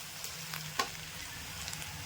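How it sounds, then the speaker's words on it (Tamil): Onions frying in a pan for a banana-flower and egg stir-fry give a soft, steady sizzle throughout, quiet and close, with one brief clink of a utensil partway through. "வெங்காயம் நல்லா வதங்கிடுச்சு"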